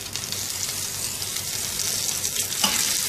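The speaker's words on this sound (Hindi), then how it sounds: "मिक्स कर देंगे अच्छी तरह से सारी चीज़ों को।" Spices and tomatoes being stirred into mutton in a hot pan, a close, continuous sizzle and frying crackle with light scraping of the stir, loud and steady without talk.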